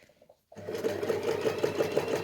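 A sewing machine runs steadily, stitching a fabric water bottle carrier near the edge, with a continuous close mechanical whir that starts abruptly after a brief quiet moment.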